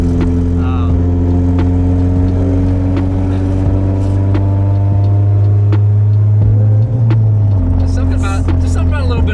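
A big-turbo twin ST car with a stock-placement turbo kit accelerates loudly under boost, a steady droning engine note rising in pitch with a shift near the end, up close and continuous.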